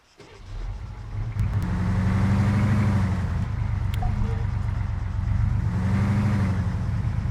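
Vehicle engine in Arma 3 as a squad drives off, a steady mid-pitched motor hum rising as it pulls away, holding loud and continuous with slight surges in revs throughout.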